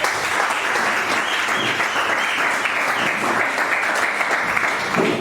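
An audience in a university hall claps for a law student being introduced during a mock trial event, a thick, even wash of applause holding at constant loudness from start to finish.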